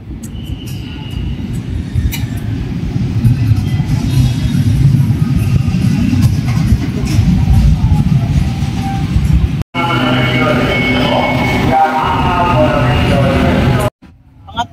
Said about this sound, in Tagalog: Pangatlong sakay namin to ngayon, LRT, papuntang Buendia.